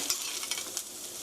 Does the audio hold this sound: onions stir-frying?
yes